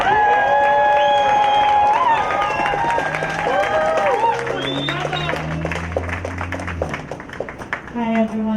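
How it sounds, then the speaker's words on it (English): Audience at a community immigrant-advocacy event in Atlantic City applauds and cheers, a steady crowd roar with voices and whoops layered over clapping that gradually thins toward the end. "Big warm round of applause for Grace."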